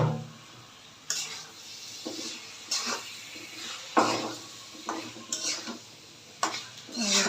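Meat is tipped into a pot of fried spice paste for haleem and stirred, producing a series of irregular wet slaps, metal spoon scrapes and clanks with a light sizzle between, close by.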